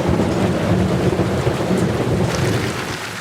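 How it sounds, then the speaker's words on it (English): Heavy rain pours steadily during the first big storm of the rainy season over a Nigerian beachside city, with a dense, loud wash of downpour and low rumbling thunder running throughout, no voices. "As the first big storm of the rainy season hits the city"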